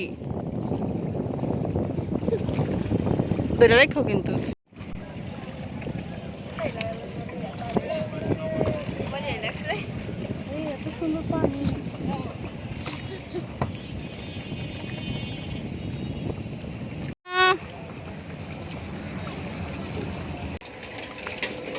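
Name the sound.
boat moving on a river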